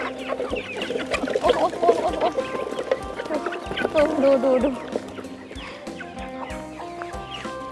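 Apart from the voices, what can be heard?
hungry chickens clucking at home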